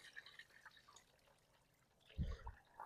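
Rinse water is dumped out of a glass fish tank found on the street, faint dripping giving way to a short splashing pour near the end.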